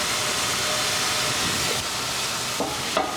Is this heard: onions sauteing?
yes